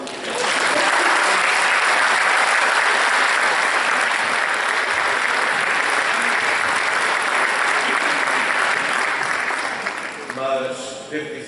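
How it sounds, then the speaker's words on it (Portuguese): A large audience at a centenary celebration for Caixa Agrícola gives a long, loud burst of sustained applause that fades near the end as a voice begins speaking. "Um grande aplauso para a Judite."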